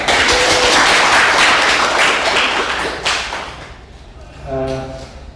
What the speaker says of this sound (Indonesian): Baru tepuk tangan sekali lagi bagi kita.